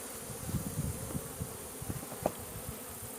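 Honey bees buzz faintly around an open hive during an inspection, a soft, steady drone with brief louder passes of individual bees and small knocks of frames being handled.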